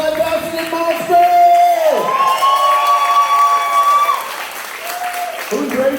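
A live recovery-show crowd bursts into loud applause and cheering, steady clapping with whoops and shouts, while a voice on the microphone carries over the noise.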